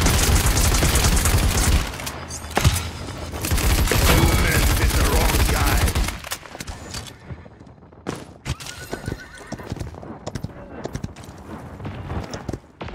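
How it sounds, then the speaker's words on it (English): Enemies fire weapons at the player during Siege gameplay in Paladins: a loud, dense barrage for about six seconds, then sparser sharp bangs and impacts amid busy game effects. "They're firing on me."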